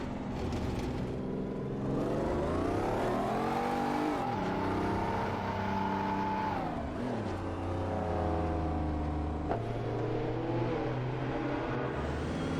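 Several race cars in a video game roar past one another while overtaking, engine tones sweeping up and down in pitch continuously and loudly for the whole stretch, with no voices.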